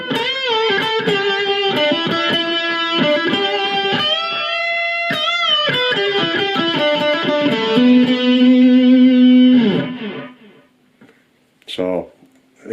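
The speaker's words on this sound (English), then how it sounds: "If I play you can hear the echoes coming back." An electric guitar played through a Blackstar ID Core V3 amplifier runs distorted lead lines drenched in delay echoes. It is loud and continuous and ends with a sustained note that decays into trailing repeats and a final plucked phrase.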